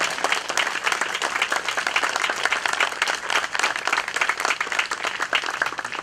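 Steady, dense applause from an audience honoring library staff at a groundbreaking ceremony for the Centerville Library, loud and continuous with no talk.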